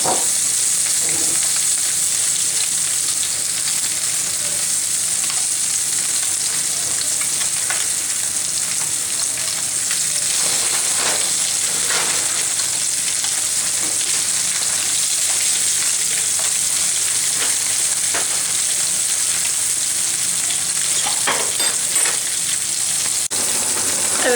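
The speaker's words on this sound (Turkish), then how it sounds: "son balığımızı kızartıyoruz ve alacağız." Loud, continuous sizzling of common dentex fish frying in hot oil, with faint crackles and a few light scrapes over the steady hiss.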